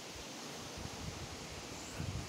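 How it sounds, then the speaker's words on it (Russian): Strong gusting wind shakes trees, a steady broadband roar of rustling branches and leaves, loud and continuous with no voices. "Ветер, ветер, ветер. Вот, собирать не дает."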